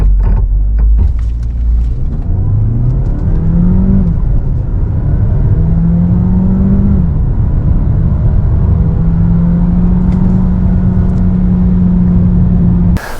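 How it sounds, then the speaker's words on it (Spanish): A 2023 Citroën C5 Aircross plug-in hybrid SUV in Sport mode launches hard from a brake hold, its drivetrain whining in loud, close rising sweeps that settle into a sustained high drone. "vamos a seleccionar el modo Sport de la conducción, pisamos freno y acelerador a fondo y a ver qué pasa"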